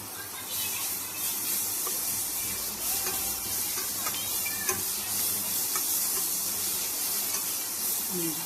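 Ginger garlic paste sizzles in a pan for an egg gravy, a steady frying hiss with small crackles and spatters and occasional stirring, close and fairly even throughout.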